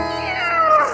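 A cat gives one loud, close, drawn-out meow that rises and wavers, heard alone.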